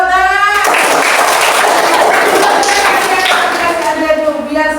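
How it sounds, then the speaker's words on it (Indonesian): Classmates in an Indonesian primary classroom burst into a broad wash of clapping that fills the whole stretch, loud and dense, with children's voices and a teacher's voice rising over it. "Iya, bagus. Tepuk tangan."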